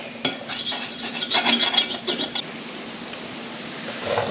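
A metal file rasps over a Kubota 4690 backhoe cylinder shaft in a quick series of close, scratchy back-and-forth strokes, then stops, leaving quiet background.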